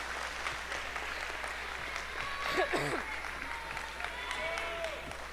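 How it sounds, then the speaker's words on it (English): Faint, distant-sounding round of applause for agriculture teachers and administrators in a livestock show arena, steady and low in level with a few brief voice-like tones over it. "I need one more round of applause for our ag teachers, our administrators, anybody that helps put on this show"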